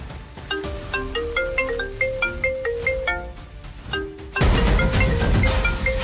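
A mobile phone rings for an incoming call, its melodic tone of bright repeated notes cycling in a steady pattern before a louder, fuller burst of sound takes over.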